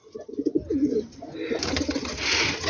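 Highflyer pigeons coo repeatedly in a cross-breed loft setup, soft rolling calls close by, with a rising wash of rustling and background noise toward the end.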